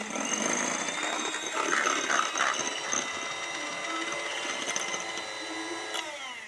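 An electric mixer beats batter in a bowl with a steady, whirring mechanical drone and gear-like rattle, close and continuous, then the pitch drops as it winds down at the end.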